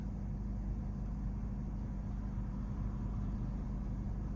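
A Peugeot Rifter GT sits stationary with its engine idling, heard from inside the cabin as a steady, low, even hum. No voices are heard over it.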